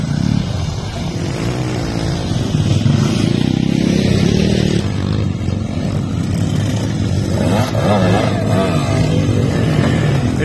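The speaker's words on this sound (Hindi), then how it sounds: "यहाँ पे बहुत सारे टाइप्स के बाइक है" Motocross bikes ride a dirt track at a busy event with many riders, giving a steady, loud, continuous engine drone with surging revs throughout.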